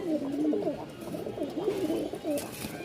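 Several pigeons coo close by in repeated throaty, warbling phrases that overlap with one another and continue steadily through the whole stretch, with no voices over them.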